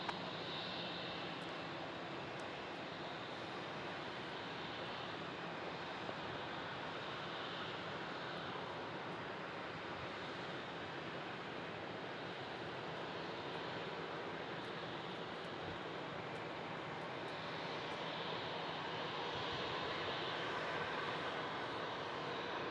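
An airliner takes off at Melbourne Airport, its jet engines a steady, faint, broad roar heard from a distance, swelling slightly toward the end, with no one talking.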